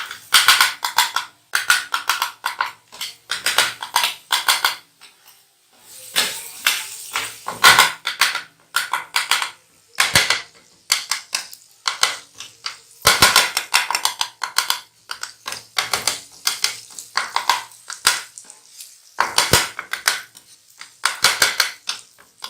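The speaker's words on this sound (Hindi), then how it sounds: "बस इसको भूनते जाना है और सारी हमने बोटियों को" Chicken pieces for katakat fry on a flat griddle while two flat metal spatulas strike and scrape in fast, loud, rhythmic bursts of clattering, with brief pauses between runs.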